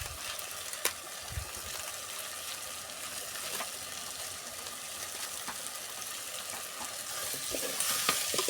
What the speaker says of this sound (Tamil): நல்லா வதங்குறது நல்லாவே தெரியுங்க